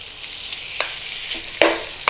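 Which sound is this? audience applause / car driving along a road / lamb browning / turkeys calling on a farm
lamb browning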